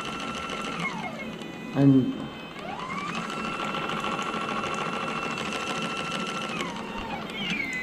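Low-cost hysteromat built on a roller pump principle running steadily with a whirring motor whine that rises and falls in pitch, close and continuous, with a brief spoken word and a bump early on.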